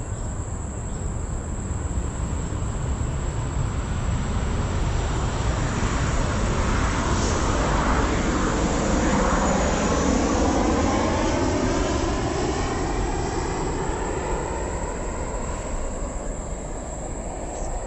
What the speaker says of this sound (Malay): Bising sikit geng sini. Sebab laluan kapal terbang landing.